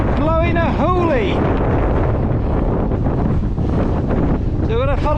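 Strong wind roars steadily across a 550-metre mountain ridge on Dun Da Ghaoithe, Isle of Mull, buffeting the microphone loudly throughout, with a voice talking briefly at the start and end.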